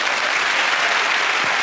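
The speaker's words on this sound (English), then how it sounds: "Give it that round of applause to Russell, Craig and Andy." A brief, loud burst of studio audience applause on a TV comedy panel show, dense and continuous clapping from a full crowd, heard alone.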